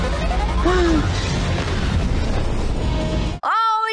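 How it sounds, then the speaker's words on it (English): A missile explosion from the film Kingsman: The Secret Service plays as a loud, close rumbling blast. A short synthetic tone and a fragment of voice come through over it, and it cuts off into another brief burst. "Is that missile gonna blow it up or what?"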